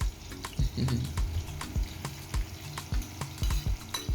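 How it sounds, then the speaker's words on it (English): Onions frying in hot oil for gizdodo, a gizzard and fried plantain dish: a low, steady sizzle close by, punctuated by repeated sharp clinks and taps of a utensil against the pan. "The oil is set, so I'm going to add my onions, allow it to fry for some time"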